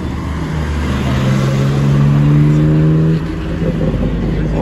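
A sports car engine, among them an Audi RS3, drones loudly past on a Monaco street, its tone rising then dropping away after about three seconds, with traffic rumble underneath.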